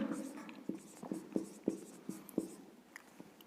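Chalk or marker strokes on a board during a chemistry lecture on acids and bases, a run of short scratchy taps and scrapes with irregular rhythm, close and moderately loud.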